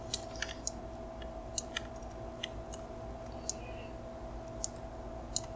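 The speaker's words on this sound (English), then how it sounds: "click on one vertex, and then go to the next one, double click" Soft computer mouse clicks, some single and some in quick double pairs, tick sparsely over a steady low hum from a computer setup.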